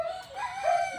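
A rooster crows in a short, close burst among chickens at a farm being readied for a typhoon, a clear tonal call with no talk over it.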